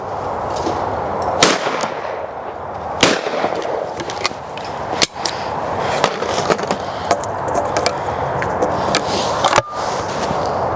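Shotgun shots from an inexpensive Lincoln shotgun fired at clay targets outdoors, several sharp reports at irregular intervals over a steady background hiss, fairly close.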